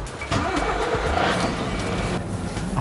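An Eddie Stobart truck pulls away from the Carlisle depot, its engine rumbling steadily and close for the whole stretch, with a slight rise in effort as it gets moving.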